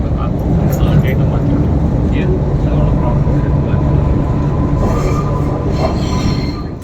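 A train pulling into Chennai railway station: loud, continuous rumbling wheels and rail noise with high squeals, sustained throughout before easing slightly at the end.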